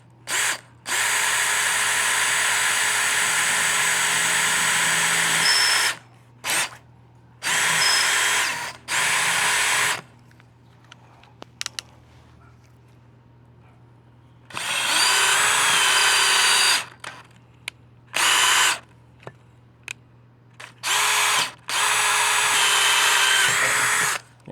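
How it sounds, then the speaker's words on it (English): Power drill boring into the fabric awning tube of a ZipDee awning on an Airstream trailer, which holds springs inside; loud whirring bursts of a few seconds each, repeated several times with short quiet gaps and a low steady hum beneath. "be careful when you drill in because there's springs and such inside the tube"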